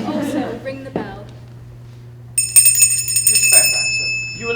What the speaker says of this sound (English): And you may also ring the bell.